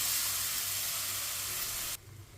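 Water poured into a hot pan of semolina halwa (suji halwa) gives a loud, steady sizzling hiss for about two seconds that stops abruptly, leaving a quieter low rumble.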